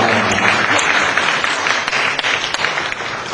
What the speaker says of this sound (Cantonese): 請你俾真係衷心熱烈嘅掌聲，歡迎三位教賓